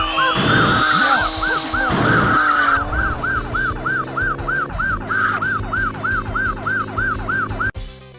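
A police car siren in a retro video game wails in a fast, regular up-and-down cycle, loud and up close over engine drone, then cuts off abruptly near the end.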